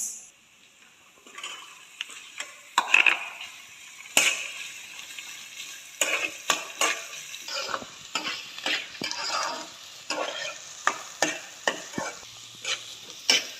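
Green beans and carrots are stirred in a frying pan: a short near-silence gives way to a soft sizzle with a rapid run of clattering, scraping strokes of the utensil against the pan.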